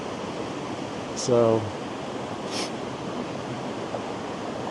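Steady broadband roar of a distant waterfall fills the scene throughout, with a brief spoken word and a couple of short clicks or rustles over it.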